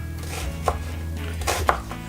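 A knife chops on a cutting board in a few distinct, close strikes, with a low hum in the background.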